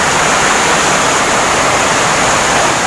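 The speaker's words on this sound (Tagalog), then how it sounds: "Ang agos ng tubig" Strong river current surging after days of nonstop rain, a dense, steady roar of rushing water filling the whole scene, loud and continuous with no voices over it.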